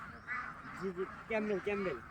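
A few close quacks from Campbell and Belgian ducks rise over a busy, noisy background, arriving in short broken bursts at moderate volume.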